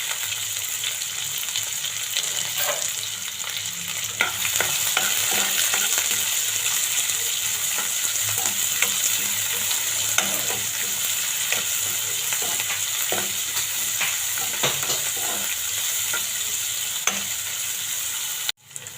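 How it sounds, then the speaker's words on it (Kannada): Onion and curry leaves fry in hot oil for okra palya, a loud, steady crackle and sizzle with scattered pops and stirring scrapes that end abruptly. "ಚಟಪಟ ಮಾಡ್ತಿದ್ರಿ ಉಳ್ಳಾಗಡ್ಡಿ ಹಾಕ್ತೀನಿ. ಸ್ವಲ್ಪ ಕರಿಬೇವು ಹಾಕ್ತೀನಿ."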